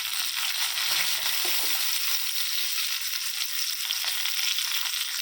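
Chopped large onions sizzle and crackle steadily in a hot pan while frying until browned for mutton thokku, a dense frying hiss throughout with faint stirring scrapes.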